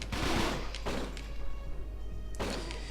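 Enemies fire guns in the video game Fighting Force 2. There are three loud bursts, one at the start, one about a second later and one near the end, with a low rumble underneath.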